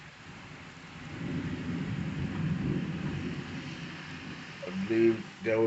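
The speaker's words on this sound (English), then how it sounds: "as the storm is basically passing through" Thunderstorm passing through during a tornado watch, with a steady low rumble of thunder and rain filling the clip, then a few sharper, louder bursts near the end.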